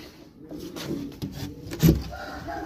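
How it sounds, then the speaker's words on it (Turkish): A tumbler pigeon gives a few soft low coos close by, with light rustling and a brief knock in between. "Arkadaşlar 6 numarada da böyle güzel bir taklacı var."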